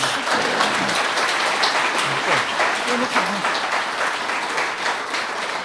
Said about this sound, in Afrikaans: Kom ons gee hulle asseblief weer 'n lekker hande klap.